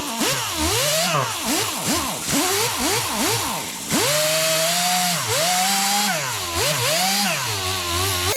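A power wire wheel cleaning snowblower parts whines loudly and close, its pitch swooping up and down as metal pieces are pressed against it and pulled away, with a steadier grinding stretch near the end.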